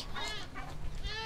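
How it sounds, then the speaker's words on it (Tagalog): Goats bleat on a family farm, several wavering calls overlapping at close range against a steady outdoor background, with a person's voice mixed in briefly. "Ay, yung mga kambing."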